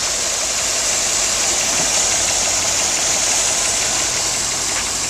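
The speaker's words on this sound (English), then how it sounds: "Go ahead and rev it up for us." A 2002 GMC 6500 dump truck with an 8.1-liter gas engine and Allison transmission runs loud and close, a steady rough engine roar with a constant hum and faint knocking texture, held evenly throughout.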